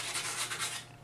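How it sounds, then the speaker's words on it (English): A sanding pad rubs back and forth over a textured wall around a hole being patched, giving three close, rhythmic scratchy strokes with no voices. "you're going to want to sand around it using the sanding pad included."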